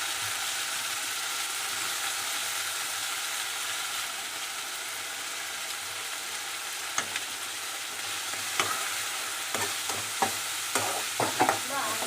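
Green turkey berries sauté in a pan for a tomato rasam and kara kuzhambu, giving a steady close sizzle with sharper stirring scrapes and clicks toward the end.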